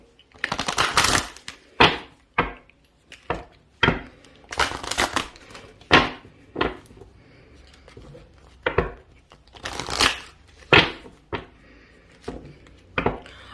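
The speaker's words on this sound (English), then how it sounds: "Let me just give it a good shuffle." Repeated crisp riffling bursts of cards being shuffled, close by, in irregular rapid rounds with short pauses between them.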